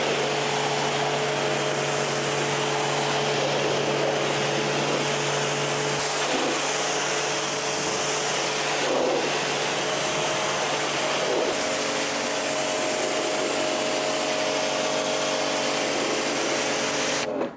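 Water spraying over ceramic-coated car panels during a rinse, a steady loud broadband hiss with a constant machine hum beneath, lasting throughout with brief shifts in intensity as the spray moves.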